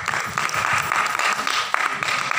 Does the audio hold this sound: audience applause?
yes